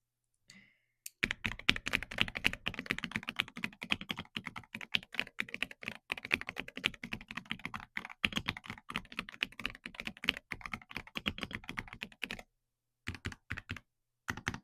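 Steady, rapid typing on an Aula S98 Pro mechanical keyboard, keys struck with pen caps instead of fingernails, producing dense close clacks with a couple of brief pauses near the end.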